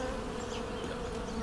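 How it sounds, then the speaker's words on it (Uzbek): Bees buzzing steadily in a village setting, a continuous close drone with a faint higher whine running through the whole short moment and no voices. "Arilarni aytaman."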